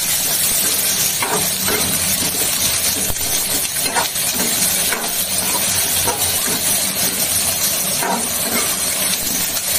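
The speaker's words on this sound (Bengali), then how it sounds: "ভাজবো, বুঝলে, একটু ভেজে নিই।" Potatoes fry in a pan for bhuna khichuri with a dense, constant hiss and sizzle. The sound stays loud and close throughout, with occasional scraping stirs.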